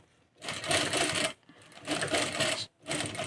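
A domestic sewing machine runs in three loud bursts of rapid stitching on fabric, with short pauses between them, during a basic sewing lesson on neckline shapes. No one speaks.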